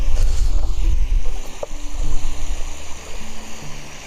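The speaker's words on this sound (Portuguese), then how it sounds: "o som do mar com o som da cozinha" Sea waves wash and surge outdoors beside an open-air cooking spot, a loud rolling churn mixed with kitchen clatter and a sharp knock partway through.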